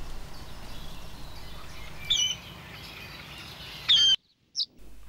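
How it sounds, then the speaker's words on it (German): A secretive rail calls from the reeds along the Innerste river, giving two short, sharp high-pitched calls a couple of seconds apart over a steady background hiss, followed by a brief faint chirp after a sudden drop to silence. "Lediglich ihre markanten Rufe verraten dem Ornithologen, dass dieser heimliche Vogel hier lebt."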